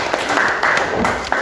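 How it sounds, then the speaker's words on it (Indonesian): A class of students applauding in a classroom, a dense, steady patter of many hands clapping up close for a brief moment. "Tepuk tangan untuk kita semuanya."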